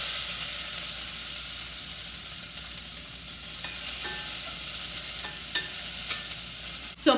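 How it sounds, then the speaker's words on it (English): Chopped onion sizzles in olive oil in a pot for a broccoli potato cheese soup, a steady close frying hiss with a few soft stirring scrapes and a sharper clink at the end. "we're going to go ahead and put our chopped onion in here"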